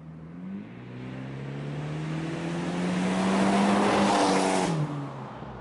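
An automatic Abarth 124 accelerates hard from a rolling start, its engine note climbing steadily and loud from inside the car, with no talk over it.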